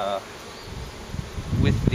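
Honeybees hum at a queenless hive, a steady close buzz with faint rustling and a louder burst of wingbeats near the end.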